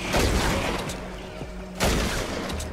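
A turret in Fortnite Save the World fires in a rapid burst, loud and near, then resumes after a brief break.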